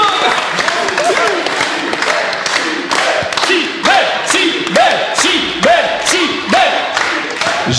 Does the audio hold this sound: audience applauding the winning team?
yes